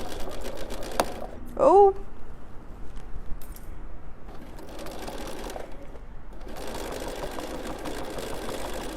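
A sewing machine stitching a quilt seam runs in a steady mechanical whir across the whole stretch, with a short spoken exclamation breaking in near the start.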